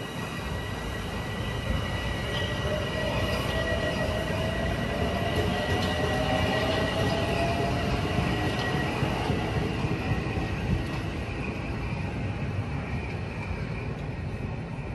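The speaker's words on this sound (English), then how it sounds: "that CSX train that I mentioned earlier, here it comes" A CSX freight train rumbles steadily through Ossining station on Metro North, a loud continuous roll of wheels on rail with faint squealing, close by and alone without talk.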